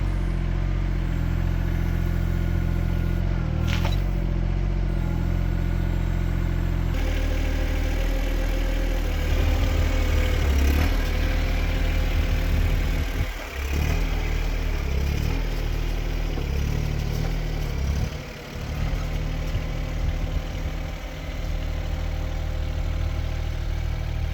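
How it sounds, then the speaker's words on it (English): Mini excavator fitted with a post hole digger auger grinding against concrete, a loud steady engine drone with rough scraping and grinding bursts rising and falling through the middle, no talking. "there you can hear the blade, it is augering against that concrete"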